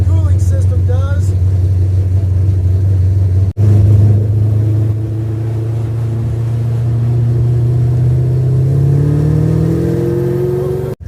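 An old car's engine, parked since 1999, held at a fast idle of about 3,000 RPM with a sticking throttle and the choke open, droning loud and close and rising slightly in pitch toward the end.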